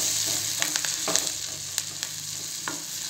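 Jackfruit seeds sautéing with a couple of curry leaves, a steady hiss of frying oil with several sharp scraping stirs of a spatula against the pan, close up and without talk.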